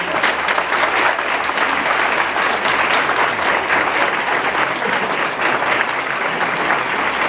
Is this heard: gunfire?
no